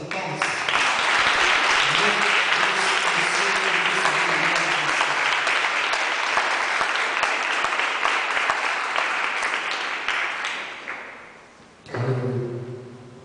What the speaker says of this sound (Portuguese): Vamos receber do justo com uma poderosa salva de palmas?